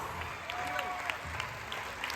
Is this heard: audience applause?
yes